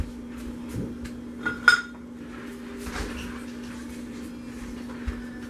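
A metal ladle knocks against a pot of cherry almond hot process soap with a few brief, bright clinks, one sharper pair in the middle and a lighter tap near the end, over a steady low hum.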